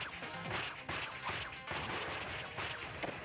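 Crashing, smashing impacts from the Kirby: Planet Robobot game's MetaKnightmare Returns mode hit repeatedly in a dense, noisy burst of whacks and swooshes, loud and without talk.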